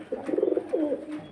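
Male pigeons at a pigeon seller's loft coo in a close, rolling burst followed by a second drawn-out coo, with no talking.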